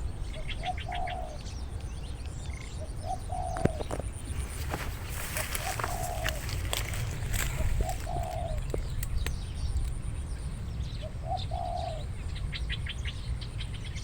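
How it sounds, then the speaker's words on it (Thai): Birds calling outdoors: short repeated chirps and soft cooing calls come and go over a steady background hiss, with no one talking. "เหมือนมีเสียงนก"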